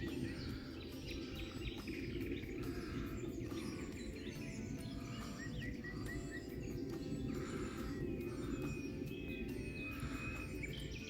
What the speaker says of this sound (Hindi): आप परिंदों की आवाज़ सुन रहे हैं चहचहाने की।